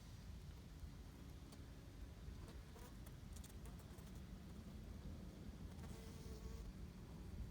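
A honey bee flies in near a hive being readied for moving to a new apiary, its faint buzzing hum drifting over quiet outdoor background noise.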